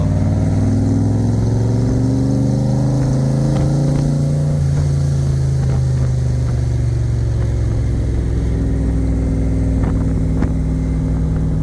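A 2008 Backdraft Cobra roadster with a Roush 342R engine drones loudly and steadily from inside on a test drive, pitch rising and falling as it accelerates and shifts, with no talking.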